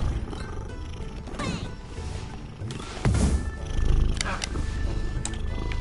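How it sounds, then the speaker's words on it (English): A cat purrs loudly and close to a microphone, a continuous rumbling purr with some rustling and brief higher squeaks over it; faint game sounds sit in the background. "I love his kingly purr."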